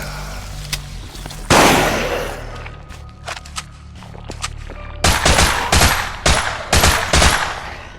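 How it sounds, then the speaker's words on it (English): Gunfire from a video game trailer: rapid automatic bursts fire loud and close in the second half, after scattered sharp shots and a sudden blast earlier on. "You can do headshots and you can aim down and shoot off specific body parts."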